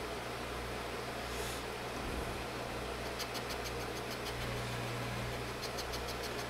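A lathe takes a light cut while repairing runout on a rotary head chuck. The machine gives a steady low mechanical hum and drone, with faint high ticking during the cut and no speech.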